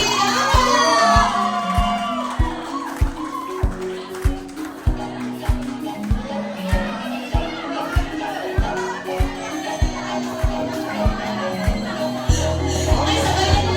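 Children and a crowd shout and cheer at a baptism party, loud and continuous, with a thumping rhythmic beat underneath and voices calling out throughout.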